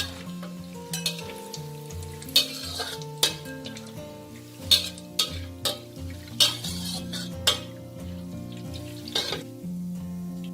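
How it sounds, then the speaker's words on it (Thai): Fermented pork ribs (naem) refried briefly in oil make a sizzling crackle under repeated sharp clinks and scrapes of a metal utensil against the pan, with steady tones running underneath. "แล้วให้ลงไปทอดใหม่ครั้งนึงค่ะ สองนะคะให้ทอดแป๊บเดียวนะคะ"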